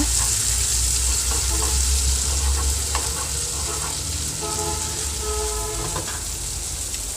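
Steady, dense sizzling of egg and lentils frying in a pan, continuous and fairly loud throughout, with occasional soft clinks of a utensil.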